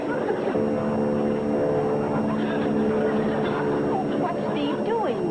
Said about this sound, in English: That sounds like my plane.